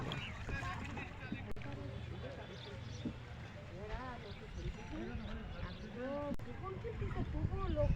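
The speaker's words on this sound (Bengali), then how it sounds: "সবাই নৌকা দিয়ে পার হচ্ছে" A ferry boat crosses the river at Bahadurpur ferry ghat in Ashashuni, Satkhira, with a low, steady rumble running throughout beneath nearby people talking.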